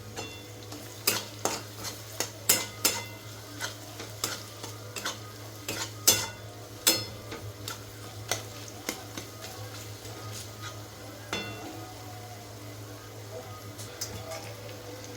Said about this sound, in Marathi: टमॅटो थोडंसं फ्राय होऊ द्यायचं.